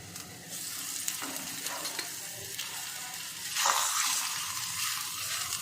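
Methi thepla frying in oil on a pan, a close steady sizzle with brief bursts of crackling and a spatula scraping and turning the flatbread, no voices.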